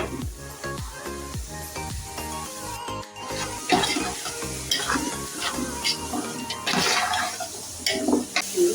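Chopped onions sauté in a hot pan with crushed ginger and green chili, a continuous sizzle broken by scraping stirs and clinks from a utensil, close and fairly loud with no talk.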